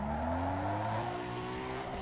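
In the Need for Speed Underground 2 video game, a car's wheels spin as the engine revs in a steady rising drone with tire noise, close and continuous.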